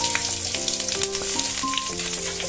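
Cumin, dried red chilies and bay leaf dropped into hot oil: a steady crackling sizzle with sharp pops, close up, over a faint layer of sustained tonal sound in the background.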